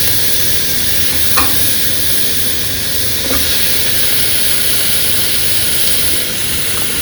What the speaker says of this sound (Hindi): ऐसा थोड़ा सा अपने लौकी भी डाल दो, फ्राई होती भी रहेगी।